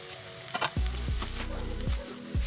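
Red amaranth leaf stir-fry with onion, green chilli and cumin sizzling in a pan as grated coconut goes in, a steady close frying hiss with a few soft scrapes and thumps of stirring, no talking.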